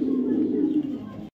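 A female Pit racer pigeon of the Kitel line coos softly and continuously nearby, a low steady murmur lasting just over a second before cutting off.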